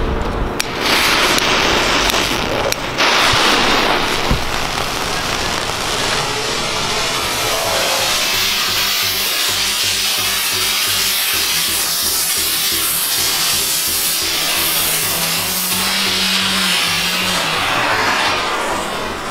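Spinning firework comets, one mounted on its side, burn with a loud continuous hissing whoosh for the whole stretch, an early sharp burst giving way to a steady roaring spin with wavering tones.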